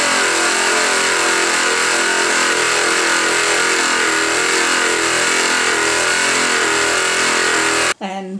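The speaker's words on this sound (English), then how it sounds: "that allows me when I go with the jigsaw to go like this and make a turn" A jigsaw cuts a board for a home-office desktop, its motor droning loud and steady for several seconds before cutting off abruptly near the end.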